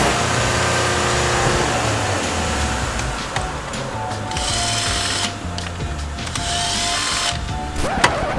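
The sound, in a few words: car electric window motors being tested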